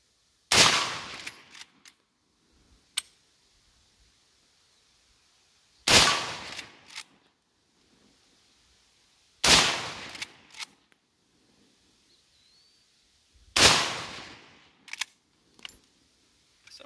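Four loud rifle shots from an old Winchester 94 lever-action firing 30-30 Lee loader reloads, spaced several seconds apart outdoors, each with a sharp crack and brief echo, plus faint clicks of the lever being worked between shots.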